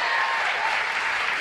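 A television studio audience on a late-night talk show breaks into sustained, even applause, a dense continuous wash of clapping heard alone at steady loudness throughout.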